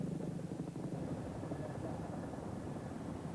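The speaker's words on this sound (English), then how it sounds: "It was the roar of the first helicopters overhead that told them the signal had come." British military helicopters such as Chinooks and Pumas fly overhead in Kosovo in 1999, making a continuous, dense rotor and engine rumble that stays loud and steady throughout, with no clear talking.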